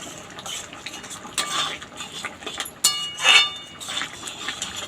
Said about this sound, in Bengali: এবার মিশিয়ে নেব গরম মশলার ঘিটা।